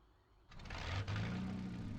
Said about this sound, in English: and that's it. The engine's running.